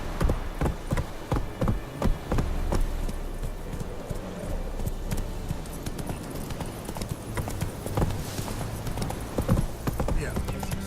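Hooves of Roach, a horse in the video game The Witcher 3: Wild Hunt, clip-clop in a steady galloping rhythm with an occasional whinny, fairly close, under game ambience and a brief voice.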